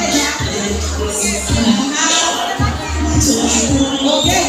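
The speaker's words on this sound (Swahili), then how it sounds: "makofi mazuri mazuri" A wedding celebration crowd cheering, shouting and clapping loudly and continuously, with excited voices and a rhythmic beat running underneath.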